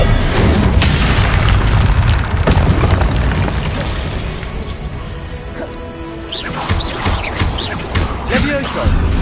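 Confringo blasting spells in Hogwarts Legacy on PlayStation 5 detonate in heavy booming explosions with crashing impacts, loud and dense, with a brief lull before further blasts and spell effects follow.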